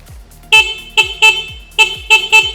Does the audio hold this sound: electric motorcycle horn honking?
yes